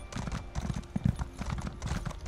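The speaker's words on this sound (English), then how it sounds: "Hey, follow that horse." Horse hooves clip-clop in The Elder Scrolls Online, a quick, even run of hoof beats close by, with a brief whinny-like note in the middle.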